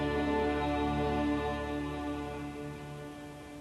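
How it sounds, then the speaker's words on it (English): Yves Klein's monotone symphony played by a full orchestra holding a single sustained chord, a dense steady drone that fades very gradually, heard faintly from a CD in an apartment. "The sound you're hearing is the sound of a symphony Klein orchestrated,"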